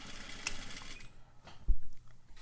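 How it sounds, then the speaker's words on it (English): Sewing machine back stitching at the end of a concave curved seam, a short mechanical whirr of needle and feed near at hand, followed by a brief louder clunk. "And I'm going to back stitch now."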